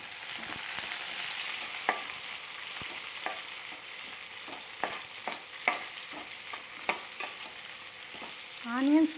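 Onions fry in hot oil for bodakakarakaya fry, a soft continuous sizzle punctuated by scattered spatula scrapes and taps against the pan, close and alone, ending in a brief rising squeak.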